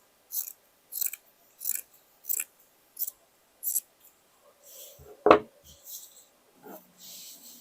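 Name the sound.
scissors cutting fabric along a dress sleeve curve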